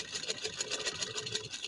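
A sewing machine stitches off-white trouser fabric with a fast, even mechanical chatter of closely spaced needle strokes. It sounds close and moderately loud.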